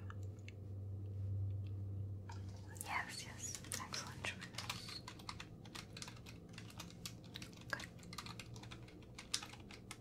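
Brisk clicking of a computer keyboard, a dense patter of irregular keystrokes close to the microphone in an ASMR roleplay, with soft whispered speech underneath.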